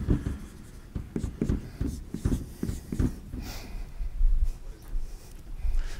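Writing on a board during a physics lecture, with chalk or marker strokes tapping and scraping in short, irregular bursts, close and fairly loud, interspersed with quieter gaps.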